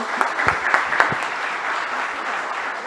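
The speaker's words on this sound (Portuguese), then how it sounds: "Uma salva de palmas para a professora" An audience at a public lecture claps for a professor, a few sharp individual claps at the start blending into moderate, steady applause that continues throughout.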